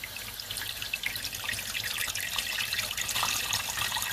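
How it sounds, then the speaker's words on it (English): Hot water poured over salted raw meat to wash it, a steady splashing, trickling rush of liquid that runs close and fairly loud throughout, with no talk over it. "And then put some hot water on top,"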